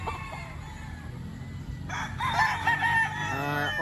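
Sweater Gray gamefowl rooster crowing once, a clear close crow rising in the second half over faint background noise.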